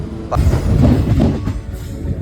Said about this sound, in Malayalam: ട്രെയിനിതങ്ങനെ അങ്ങനെ വളഞ്ഞും പുളഞ്ഞൊക്കെ പോയിക്കൊണ്ടിരിക്കട്ടോ